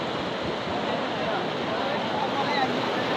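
Water current flowing strongly near Anumula village in Nalgonda district, Telangana, a continuous broad rushing wash heard close and steady, with a voice talking over it.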